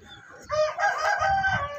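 Aseel rooster crowing once, a loud drawn-out call with strong harmonics starting partway in, over a faint background of other fowl.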